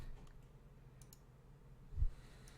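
A few faint, soft clicks of a Prometheus Core gaming mouse's buttons spaced apart, close by and quiet, with a low thump partway through.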